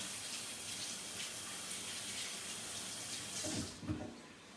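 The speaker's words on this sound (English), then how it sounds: "Wash my hands a bit." Hands being rinsed under a running kitchen tap: a fairly quiet, steady wash of water that swells into a few louder splashes near the end.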